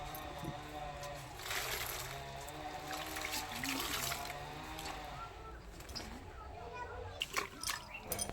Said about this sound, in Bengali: সব খেলনাগুলো এখানে জল ভালো জলে ধুয়ে পরিষ্কার করে রোদ্দুরে শুকনো করতে দিয়ে দিলাম